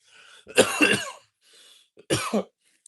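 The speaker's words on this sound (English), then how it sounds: "I feel like I gotta cough really loud" Two loud, harsh coughs ring out close by, each a burst of rough chesty bursts, separated by a quiet breathy pause and followed by a tiny click.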